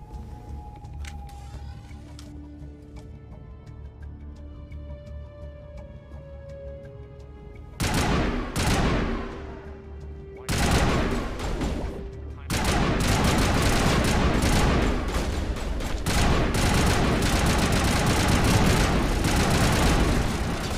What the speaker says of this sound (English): the turrets got me quick that time